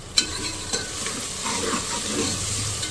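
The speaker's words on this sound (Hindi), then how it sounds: "साथ ही मैं डाल दूँगी 2 दरमियानी प्याज़ें, जिनको मैंने बारीक स्लाइस कर लिया" Finely sliced onions frying with whole spices in a pan for mutton bhuna gosht, a steady close sizzle with a couple of sharp clinks from a stirring spoon.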